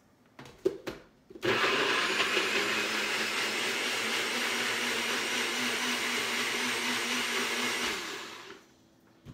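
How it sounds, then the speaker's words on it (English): A small personal blender starts after a few clicks and whirs loudly and steadily for about seven seconds blending strawberries, then winds down and stops. "So first thing I'm going to do is blend the strawberries."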